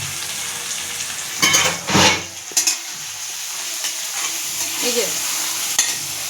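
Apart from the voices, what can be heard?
fish gravy spices being stirred in a pan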